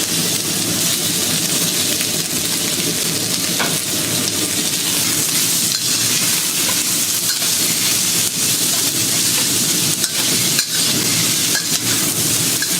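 Ground pork and onion sizzling in a hot pan during a Chinese noodle stir fry, a steady loud crackling hiss with occasional sharp pops and stirring clatter, no voices.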